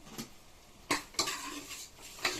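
A spoon mixes curry leaves, coriander and mint into a pot of goat-leg paya soup, giving three or four clear metallic clanks and scrapes against the pot over a faint bubbling background.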